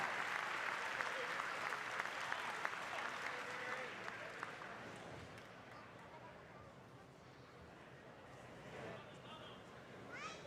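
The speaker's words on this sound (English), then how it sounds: "Let's give another round of applause for our ladies' top 3 Mayhem Classic" An audience applauds for the ladies' top 3 at the 2025 Mayhem Classic, with sustained clapping from a crowd that slowly fades and a voice talking faintly over a public address.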